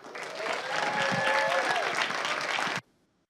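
An audience applauds to welcome a community Parks and Recreation Commissioner at a Black History Month community event, a dense, steady burst of clapping that swells and holds for nearly three seconds before stopping abruptly.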